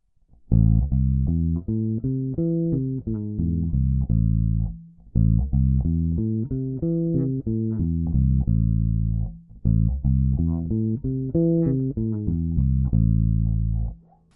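Bass guitar notes played one after another as arpeggios, three repeated phrases separated by brief pauses, clear and up close with no talking.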